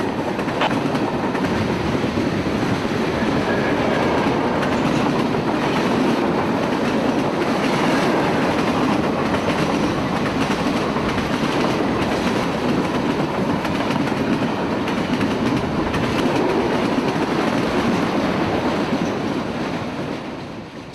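A northbound CSX freight train, Q652, rolls past near Crawford, Florida, a loud continuous rumble with rapid clickety-clack of wheels on rail joints, close by throughout and easing off slightly at the end.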